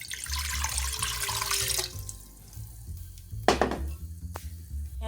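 Water poured from a container into a pot on a stovetop on high heat: a close, splashing gush for about two seconds, then quieter trickles and a light clank of the pot.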